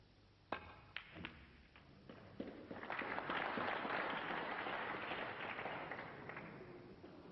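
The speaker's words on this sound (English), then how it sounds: "oohs and ahs from the crowd there" Snooker crowd at the 1996 UK Championship final reacting with a swelling murmur of oohs and aahs after a few sharp thuds, the broad crowd noise building and then slowly fading.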